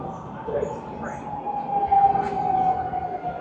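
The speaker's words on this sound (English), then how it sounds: "here comes the train that's going to Kichijoji" A commuter train bound for Kichijoji pulls into a Shimokitazawa station, a steady low rumble with a rising metallic whine and brief squeal, moderately close, with faint chatter in the background.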